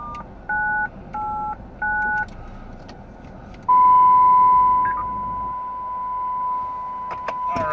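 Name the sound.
DTMF codes punched in on radio system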